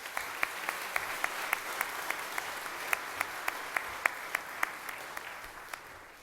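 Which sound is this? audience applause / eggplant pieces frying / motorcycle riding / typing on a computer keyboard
audience applause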